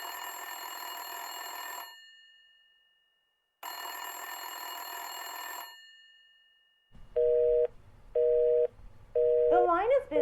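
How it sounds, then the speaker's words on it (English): A telephone call goes through on an old exchange: two long buzzing rings separated by silence, then a steady repeating busy signal of short, even beeps that ends in a burst of electronic tones. "The line is busy."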